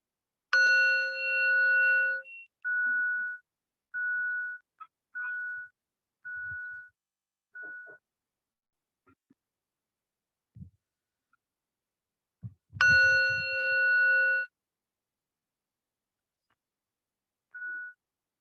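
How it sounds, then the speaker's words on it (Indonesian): A meditation bell rings out clearly, struck twice with a long shimmering tone that fades slowly, the strikes about twelve seconds apart with quiet between them. "Selanjutnya kita dengarkan genta saja ya"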